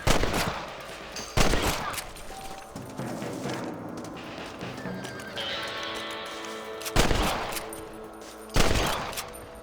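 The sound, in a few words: rifle shots at rabbits in Red Dead Redemption video game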